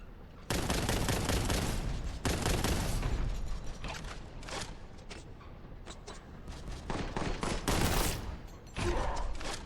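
Heavy sustained gunfire from an enemy gunner in a Space Marine video game, loud rapid bursts hammering almost without pause, with brief gaps between long volleys and mechanical clatter.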